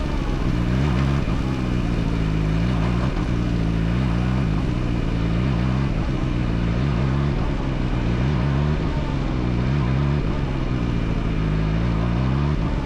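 A CFMOTO 675SR-R motorcycle on a test ride at low speed in a small area gives off a loud, continuous engine drone, its revs rising and falling repeatedly as the throttle is worked, with no talking.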